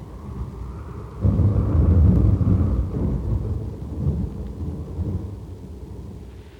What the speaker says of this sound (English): An afternoon thunderstorm interrupts a summer day.